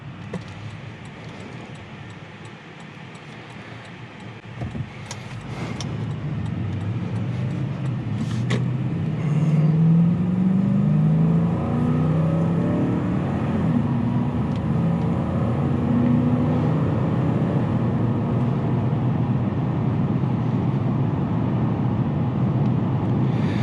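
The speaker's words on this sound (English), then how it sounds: "So it takes a lot of revving to get it to go pretty good." A 2020 Toyota Land Cruiser engine revs up and holds a strained, rising drone as it accelerates, with a few clicks and rattles early on and no talking.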